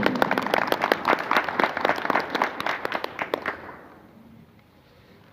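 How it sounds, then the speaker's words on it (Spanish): An audience at a gathering of Aymara, Quechua and Uros nations breaks into lively applause, many hands clapping loudly and crisply before it tapers off and fades to near silence. "Fuerte palmas, por favor."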